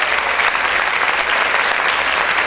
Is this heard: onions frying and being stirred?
no